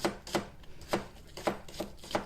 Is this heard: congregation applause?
no